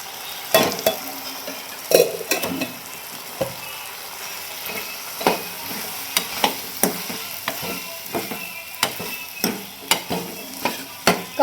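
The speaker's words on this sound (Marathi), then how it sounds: "आता बटाटे चांगलं परतून झालं." Potatoes fry in a pan as a spoon stirs them, giving a steady soft sizzle broken by repeated sharp scraping and clinking strokes against the pan at an irregular pace, close by and with no talking.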